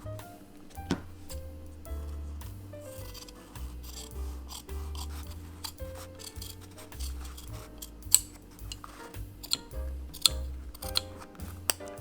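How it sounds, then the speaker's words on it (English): Scissors snip through fabric seam allowance on a sewn visor hat brim, giving a series of close, crisp cuts with irregular rhythm and soft rubbing handling noise between them, with no talking. "Now I'm going to trim the seam allowance."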